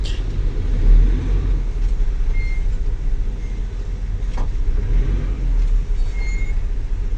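Heavy, congested traffic beside roadworks on a street in Manila: a continuous low rumble of idling and slowly moving vehicles, with a faint brake hiss and a few brief clanks, and no voices.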